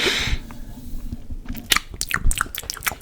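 Close-up ASMR mouth sounds of chewing soft food that melts in the mouth, wet squishy bites and smacks repeating irregularly, loud and near, with no voice.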